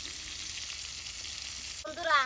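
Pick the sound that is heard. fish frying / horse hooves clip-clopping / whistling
fish frying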